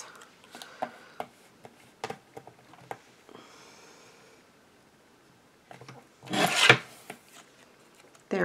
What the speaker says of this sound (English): I'm gonna trim off those little red ends.